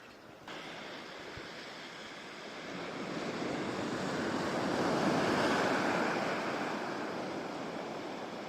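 Sea waves wash and surge around someone sitting in the water, a close, broad rushing hiss that swells louder midway and then eases, with no voices.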